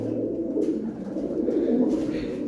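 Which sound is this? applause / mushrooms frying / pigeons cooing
pigeons cooing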